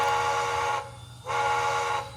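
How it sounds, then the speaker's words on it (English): Santa Fe steam whistle from a TCS WOWsound decoder in a Sunset Santa Fe 1950 class 2-8-0 model locomotive, sounding two loud, steady blasts separated by a short gap over a faint hiss. "I changed the whistle to a Santa Fe one"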